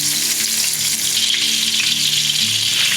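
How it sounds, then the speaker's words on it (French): Stuffed fukas with crab and curry brown in a hot pan, a dense, even frying sizzle that holds at a steady loud level throughout with no talking. "On va faire rissoler les foukas."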